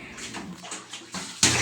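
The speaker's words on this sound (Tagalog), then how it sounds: "Ayan, nagdagdag na tuloy si Madam ng tubig sa kanyang timba guys." Water pours and splashes into a bucket during a bath-time hair rinse, a steady rushing fill with sloshing that swells louder and brighter near the end, close by with no talk over it.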